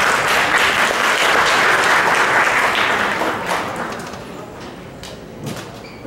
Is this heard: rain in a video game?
no